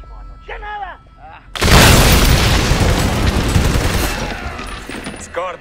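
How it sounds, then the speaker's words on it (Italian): A grenade detonates in Army of Two: The Devil's Cartel, a sudden loud boom that rolls into a long rumbling, crackling tail, with someone shouting in Italian just before and again as it fades. "Lancia una granata! Granata!"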